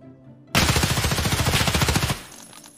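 A sustained automatic weapon burst in the shooter game Escape from Tarkov: sudden loud rapid-fire shots in a tight steady rhythm lasting well over a second, then an abrupt stop into a quiet tail.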